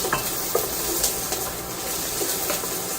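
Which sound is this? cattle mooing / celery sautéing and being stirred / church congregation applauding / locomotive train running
celery sautéing and being stirred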